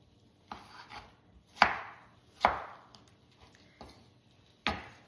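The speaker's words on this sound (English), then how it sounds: "I'm just giving these a nice dice." A knife dices vegetables on a cutting board for an eggplant salad, with about six crisp, close chops spaced unevenly and quiet pauses between them.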